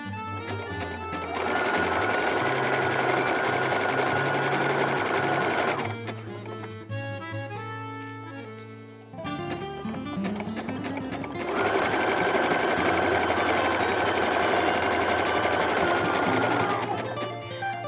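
A sewing machine stitches a zigzag seam on a gymnastics leotard appliqué joining biflex and mesh, running in a steady loud whir with rapid needle chatter for several seconds, pausing, then starting up again for a long even run.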